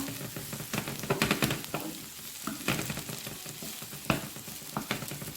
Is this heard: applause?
no